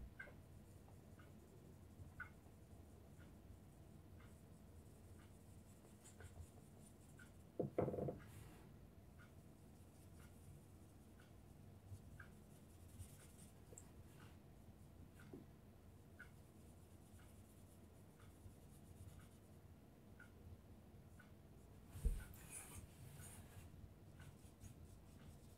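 A coloring pencil scratches on a paper card in steady, faint strokes with short pauses, close up and quiet, with no talk.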